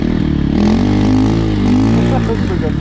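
A motorcycle engine revs close by with a throaty, wavering pitch, while someone talks over it.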